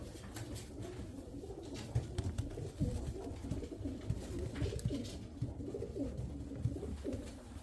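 A white-crested pigeon ready for flight cooing among a loft of birds, low soft coos repeating steadily over a busy murmur of other pigeons nearby.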